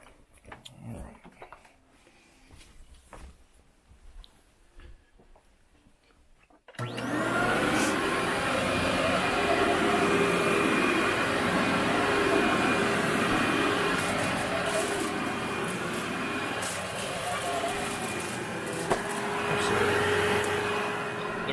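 A Ninja vacuum cleaner switches on after a few seconds of quiet rustling and runs loud and steady across low-pile bedroom carpet, a continuous whining roar with slight shifts as it is pushed.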